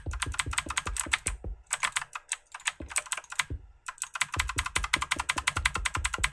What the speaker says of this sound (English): It's an Eagle Tech mechanical keyboard.